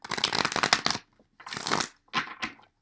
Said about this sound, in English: One more big shuffle here.